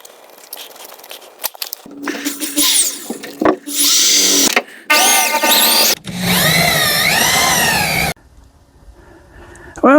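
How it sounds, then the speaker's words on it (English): A power drill bores holes through a carbon fiber electronics panel for a 1968 Ford Mustang, with several loud bursts of whining drilling broken by short pauses and handling noises. "Holes drilled, everything's lined up."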